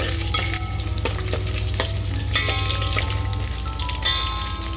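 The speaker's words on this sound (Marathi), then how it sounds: "आणि मी बाजूला काढून ठेवलेली चरबी आहे ती तेलात टाकून छान असं फ्राय करून घेऊया" Mutton fat frying in very hot oil, a dense steady sizzle with bubbling crackle and sharp pops scattered throughout, close and loud with no voices.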